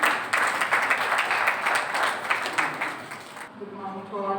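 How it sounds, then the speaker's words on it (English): A graduation ceremony audience gives a round of applause, a dense even patter of clapping for about three and a half seconds before it drops away and a voice begins speaking. "Please welcome her with a huge round of applause."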